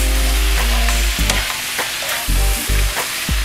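Pancit canton noodles being stir-fried in a pan, loud close sizzling with repeated scraping and tossing strokes of a utensil against the pan.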